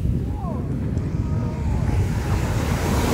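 Large sea waves break and wash continuously on Cleopatra Beach in Alanya, Turkey, a loud, rumbling surf mixed with strong wind buffeting the microphone, with no pause throughout.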